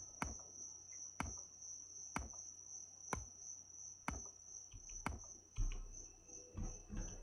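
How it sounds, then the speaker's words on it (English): Cicadas drone in the woods in Escape the Pacific, a steady high-pitched buzz that holds throughout, punctuated by sharp, evenly spaced clicks about once a second. "I love the cicadas in the woods."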